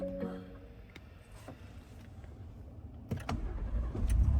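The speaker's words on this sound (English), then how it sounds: "I'm about to start the vehicle." A 2023 Lincoln Navigator starts up from inside the cabin. After a few clicks and knocks, the engine catches with a rising, steady low rumble that builds toward the end.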